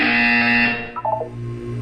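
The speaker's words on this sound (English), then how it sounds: "You will hear a buzzer." A buzzer from the video game Portal 2 sounds as one loud, sustained electronic tone that cuts off after under a second, followed by a few quick wavering beeps over a low mechanical hum.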